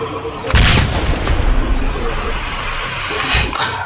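Shotgun blasts in the video game Sunkenland, with a heavy boom near the start and another toward the end over a dense, loud layer of game noise and explosions.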